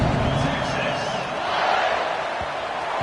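Steady roar of a stadium crowd at a football game just before a kickoff, a broad continuous wash of many voices at even loudness with a few dull thumps, no distinct cheer rising out of it.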